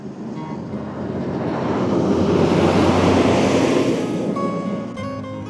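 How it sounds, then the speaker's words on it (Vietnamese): Strong storm wind gusts through trees at Prenn Pass in Da Lat during cold, rainy weather, making a loud, broad rushing roar that swells over several seconds and then eases off. "bão vào thì ảnh hưởng gió rất là mạnh quý vị. Cây cối lắc lư, gió lạnh"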